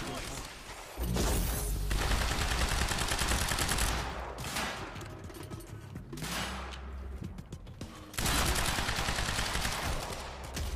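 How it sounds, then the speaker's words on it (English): A fully automatic assault rifle fires in the video game Quantum Break, with long dense bursts of continuous gunfire broken by short pauses, loud and close, and voices talk over it. "pull out your fully automatic assault rifle"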